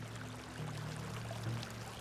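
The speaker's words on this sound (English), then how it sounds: "These jars are filled with water" Water poured into jars in an ancient setting, a steady close-up stream of liquid running for about two seconds with a faint low hum underneath and no voices.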